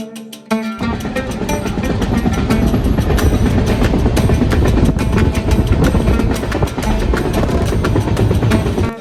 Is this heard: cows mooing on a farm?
no